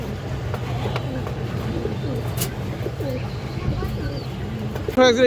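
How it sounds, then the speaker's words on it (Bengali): A male breeder pigeon coos in a series of soft, low repeated calls close by, over a steady murmur of background noise. "এটা একটা বিডার নর কবুতর"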